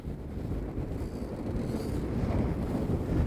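Strong wind roars steadily across the deck of a yacht sailing in about 30 knots of breeze with a little genoa unfurled, a dense low rumble of wind buffeting the microphone, growing slightly louder, with no talk.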